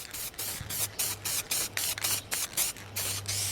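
A light second coat of spray paint goes onto a repaired car bumper: about eight short, close hissing bursts in a steady rhythm, with a low electrical hum underneath and no talk.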